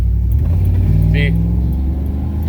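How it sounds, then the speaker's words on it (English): An LS-swapped Chevy K1500 pickup, loaded up, revved at full throttle to around 3,500 rpm, giving a loud, close, steady engine roar with a brief rise in pitch; someone talks over it. "I just gave it all the throttle, and then it clears itself up and goes"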